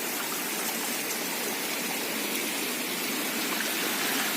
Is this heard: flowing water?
yes